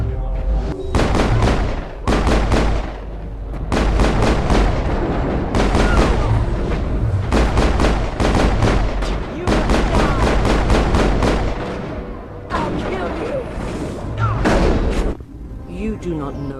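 Gunfire rattles through a Mass Effect cutscene in long, dense bursts of rapid shots with deep booms, loud and close, separated by brief pauses, with voices heard among the firing.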